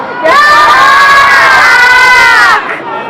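A festival crowd at a town birthday celebration roars back in unison to the host, a loud sustained chorus of shouting voices, children among them, lasting a couple of seconds before cutting off into quieter murmur.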